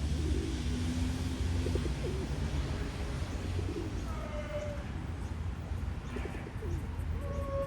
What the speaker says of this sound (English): So pigeons are interesting.